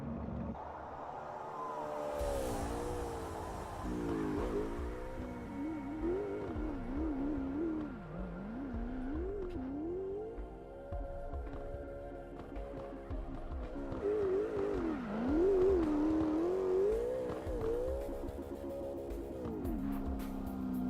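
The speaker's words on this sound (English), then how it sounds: "we're just going to let you guys listen in on this car take its rip" A drift car engine in the Virtual Drift Masters game revs hard and continuously, pitch swooping up and down as the throttle changes, with a gritty synthetic tone, loud throughout.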